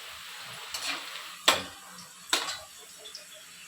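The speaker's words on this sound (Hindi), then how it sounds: "तो बाकी को भी मैं इसी तरह से डीप फ्राई करके निकालती हूँ।" Namkeen snacks being deep fried give a soft, close sizzle, broken by two or three sharp clinks of a utensil against the pan over a few seconds.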